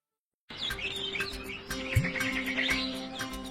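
Tailorbirds in a cartoon chirp in quick, high repeated tweets over a steady bed of background music, fairly clear and continuous after a brief silent start.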